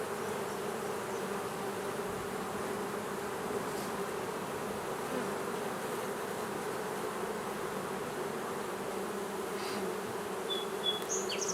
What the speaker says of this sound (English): It's really awkward working with a hive that's this crowded.